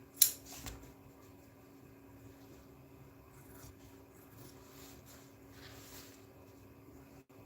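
A few quiet snips of scissors cut a custom Polaris seat pattern, with a sharper clip at the start, over a faint steady hum.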